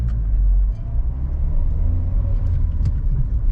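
A Mitsubishi Lancer pulls along in first gear, its engine a steady low rumble with road noise, close and fairly loud, with no talk over it.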